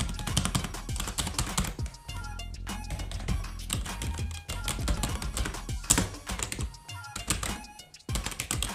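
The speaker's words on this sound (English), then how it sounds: "This is a membrane keyboard, not a mechanical one, but it gives you that feel and sound while typing it." Someone types steadily on a backlit membrane gaming keyboard, with fast, dense key clatter and brief pauses running through the whole stretch, close up.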